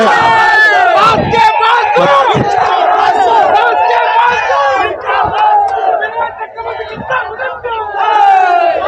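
A large crowd of Sudeep fans roars outside the Sangam theater, many voices yelling and chanting in a sustained, loud mass. The surge eases briefly near the middle, then swells back up.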